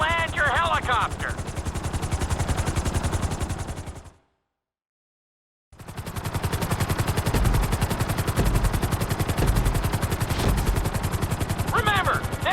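Helicopter in Grand Theft Auto V on PS5 during a flying lesson: a loud, steady rotor chop in fast regular pulses, cut by a brief stretch of silence before resuming just as strongly, with short higher chirps at the start and end.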